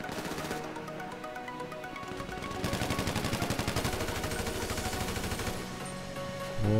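Rapid automatic gunfire in a GTA 5 Online adversary-mode match rattles in dense bursts, loudest in the middle stretch, and settles into a steady game background.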